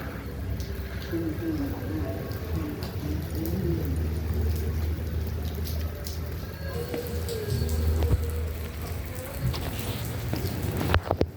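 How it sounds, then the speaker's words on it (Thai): Steady rain patters throughout at a Buddhist temple in Chiang Rai, Thailand, with occasional birds cooing and chirping in the background and a few sharper drips near the end. "ฝนตก"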